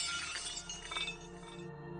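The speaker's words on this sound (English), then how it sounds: "The sound of smashing glass filled the entire chamber." Sound effect of a glass bottle toppling and smashing, a bright burst of shattering glass followed by scattered tinkling shards that fade out, close and alone without voices.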